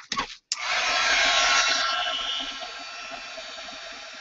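A hair dryer or heat tool drying paint on an art journal page blows with a loud, steady whoosh. It starts with a brief burst, cuts out for a moment, then runs continuously and eases slightly toward the end.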